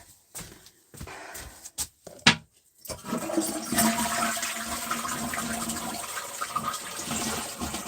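A toilet flushes in an old farmhouse built in 1804: a few short knocks and clunks, then a loud, steady rush of water and refilling that carries on with no talk.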